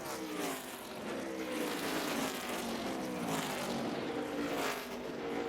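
NASCAR Nationwide Series race cars at Phoenix in 2008, a dense continuous roar of several engines racing together, loud and sustained with slight swells as cars pass.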